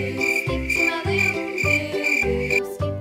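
Steady, shrill cricket chirping pulses in regular bursts about every half second, loud and near, layered over a deep pulsing rhythmic bed, with no voices present.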